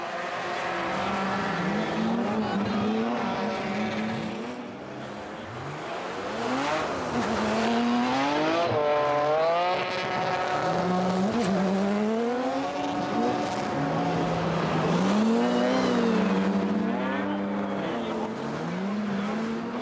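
Race cars, a BMW among them, roar around a frozen ice circuit at a Trophée Andros event, engines climbing and falling in pitch through repeated revving sweeps, loud and close and filling the whole stretch.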